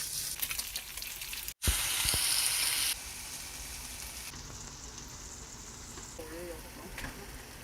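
Spam kimchi fried rice sizzles and fries in a pan in a home kitchen, a loud crackling hiss that drops to a quieter steady sizzle, with brief stirring scrapes and no talk.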